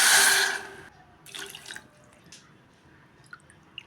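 Water is poured into a pot holding sugar and jaggery for a wheat flour halwa. A strong, splashy gush comes first, then it eases into softer trickles and a few faint drips, with no talking.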